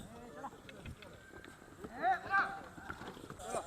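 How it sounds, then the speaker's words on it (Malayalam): A Pushkar horse moving in the rewal gait gives quick, evenly spaced hoof clip-clops close by, with people talking and exclaiming over the steps. "പറഞ്ഞ റവാൽ പോണ കുതിരയായിട്ടത് നല്ല റവാൽ പോകും അതിൻ്റെ സ്റ്റെപ്പ് ഇപ്പോൾ തന്നെ റവാൽ മെയിനിലോട്ടാണ് പോണത്"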